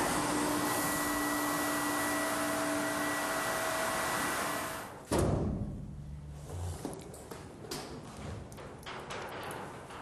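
A solvent-free pig washer runs a wash cycle for scraper pigs coated in paraffin. A loud, steady broadband whirr holds for about five seconds, then cuts off abruptly, followed by quieter clunks and rattles.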